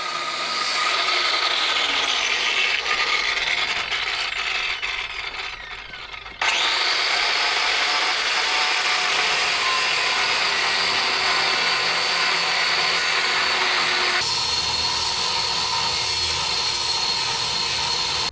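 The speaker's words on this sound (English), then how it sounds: "I need the depth of the 9-inch grinder, so we're cutting off the side pins" A 9-inch angle grinder cuts through steel side pins on a boat's stabiliser, a loud, steady high-pitched grinding whine that dips briefly around the middle, then resumes at full intensity with a slight drop in tone near the end.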